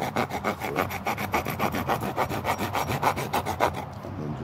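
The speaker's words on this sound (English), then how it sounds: "Carefully sawing over my knee like this." A machete saw cuts through a wooden stake held over a knee, rasping in a quick, even back-and-forth rhythm of about four strokes per second, close and alone before stopping near the end.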